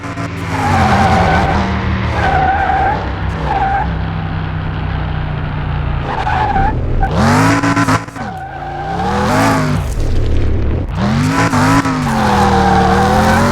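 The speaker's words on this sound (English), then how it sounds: "More difficult to donut it round because it's 4-wheel drive." Tires skid and squeal continuously as a four-wheel-drive Mitsubishi Lancer does donuts in Car Mechanic Simulator 2021, the engine droning loud and steady beneath repeated rising and falling screeches, no talk over it.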